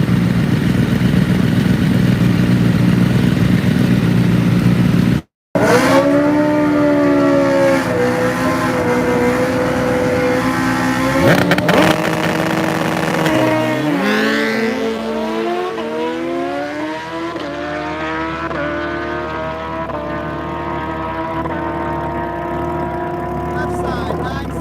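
Old-school Suzuki GSX-R1000 and Kawasaki motorcycles at a drag race, engines revving high then rising through gears in a long loud acceleration pull, fading as they move off, with crowd noise and voices underneath.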